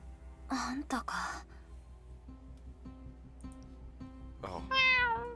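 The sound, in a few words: cat meowing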